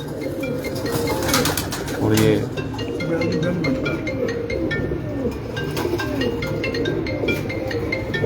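Lal Pari pigeons cooing nearby in a breeder's loft, with repeated low throaty coos and a louder burst partway through, while people talk over them.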